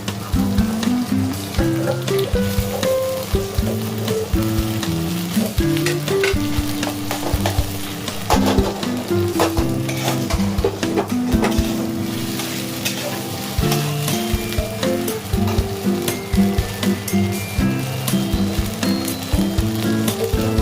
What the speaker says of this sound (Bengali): সব মশলাটা একসাথে ভেজে নেবো।